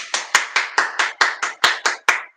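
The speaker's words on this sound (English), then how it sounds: "I'm gonna give myself a round of applause on that." One person claps about ten times at a steady, moderate pace for self-applause. The claps are sharp, close and evenly loud, with nothing else heard.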